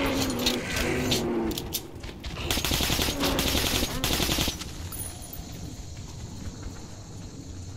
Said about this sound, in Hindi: गलती से गोली चल गया था